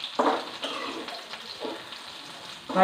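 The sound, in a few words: ivy gourd sautéing in a pan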